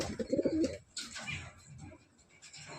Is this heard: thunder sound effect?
no